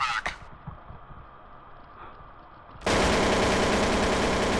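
Counter-Strike: Source gunfire: a brief shot at the start, a quiet lull with faint noise, then a sudden, loud, continuous stream of rapid automatic fire that holds steady to the end.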